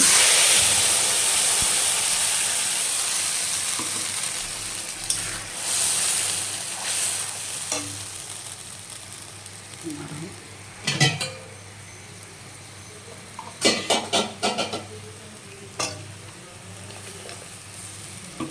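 Ground spice paste for potol paneer sizzles and hisses steadily in hot oil, a loud continuous fry with occasional clinks and stirring scrapes from a utensil in the pan.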